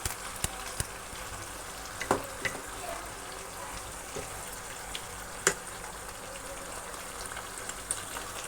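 Potatoes and ridge gourd fry in a pan with a steady close sizzle, broken by occasional sharp ticks and small stirring knocks.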